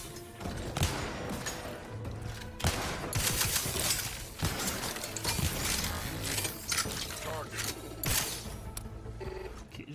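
Gunfire and mechanical clatter from the video game Outer Worlds 2, dense and continuous with repeated sharp bursts over a busy game soundscape, including a large robot nearby.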